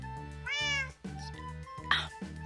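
Two cats meow close by in a quick series of short and drawn-out calls, one after another, with a steady low hum underneath and no talk.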